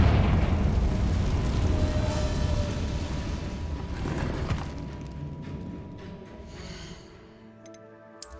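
A Confringo fire blast spell explodes in the video game Hogwarts Legacy, giving a loud, rumbling burst that slowly fades over several seconds, with faint clinks near the end.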